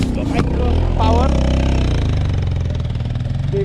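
Motorcycle engine labouring up a steep mountain road toward Bethanchowk, a steady mid-pitched drone throughout with a slight rise in revs, overlapped by talking voices.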